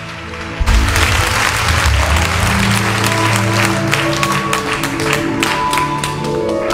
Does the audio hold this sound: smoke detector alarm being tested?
no